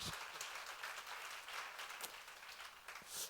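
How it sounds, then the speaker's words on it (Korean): Church congregation applauding during a sermon, a faint, steady wash of clapping heard from a distance. "박수로 하세요."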